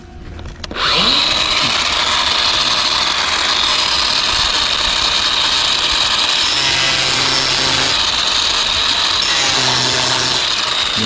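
A grinder-type power saw cutting 19mm pipe during leak repair work at a commercial building, starting abruptly and then running loud and steady at close range with a continuous abrasive whine and grinding, no voices over it.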